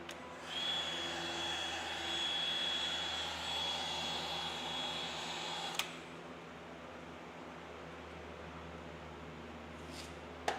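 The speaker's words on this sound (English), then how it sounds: "the heat gun we're using is very low powered" A very low-powered heat gun blows steadily on KTM 85SX motocross plastics, making a whooshing airflow with a thin whine for about five seconds. It then cuts off with a click, leaving quiet room hum and another faint click at the end.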